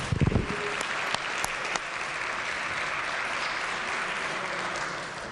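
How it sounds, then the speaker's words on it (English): In a West Virginia legislature chamber, members applaud a fire department chief, giving steady, dense clapping from a large group that holds evenly throughout after a few louder claps at the start. "Please give him a round of applause."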